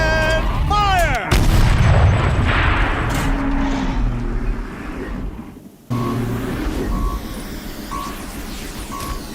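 Turret fire in Horizon Zero Dawn, a heavy booming blast with a rumbling tail after a descending mechanical whine, followed by quieter game ambience and intermittent tones.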